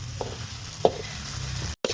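Luffa gourd and garlic sizzle in a hot wok while being stir-fried, a steady close frying hiss broken by a few sharp scrapes and knocks of the spatula, with a brief gap near the end.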